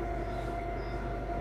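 Inside a passenger train heading to Helsinki, a steady low rumble and hum of the carriage runs without a break, with constant wheel and rail noise and no voices.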